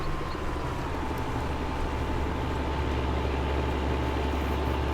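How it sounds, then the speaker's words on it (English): A small Deutz tractor engine in Farming Simulator 19 drones steadily as it climbs a hill, a continuous low, even rumble with a faint tonal whine, close and unbroken throughout without any talking. "That little Deutz tractor really has surprised me."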